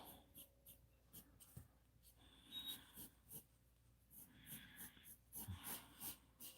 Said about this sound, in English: Quick little sketch of a dress.